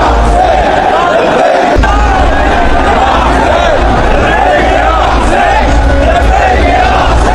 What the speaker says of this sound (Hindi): लब्बैक या हुसैन की नारेबाजी हो रही है